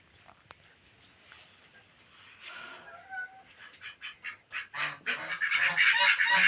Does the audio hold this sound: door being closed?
no